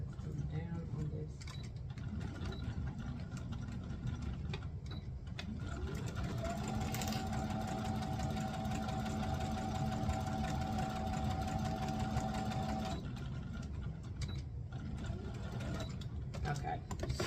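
A sewing machine stitching fabric while sewing a Simplicity 9136 pattern, a fast steady mechanical whir and clatter running for several seconds at moderate level, starting and stopping within low room noise.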